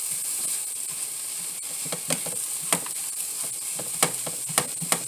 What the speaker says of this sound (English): I've added my tomato and my egg to the mixture, and I'm just waiting for that to cook up